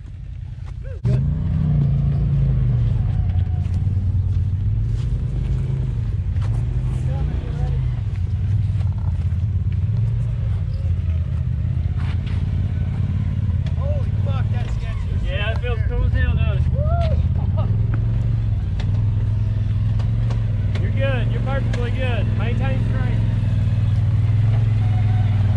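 Polaris RZR Turbo S side-by-side rolling slowly downhill in low gear on a ridge trail, a continuous loud low engine drone with shifting pitch, while people talk over it.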